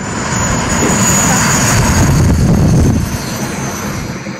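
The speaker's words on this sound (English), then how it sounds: "do you want to drive an 880 horsepower jet-engined Corvette?" Jet turbine of an 880 horsepower jet-engined Corvette, a steady loud roar with a high whine, sustained throughout at close range.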